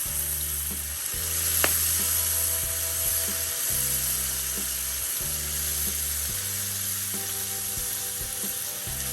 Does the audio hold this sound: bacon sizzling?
yes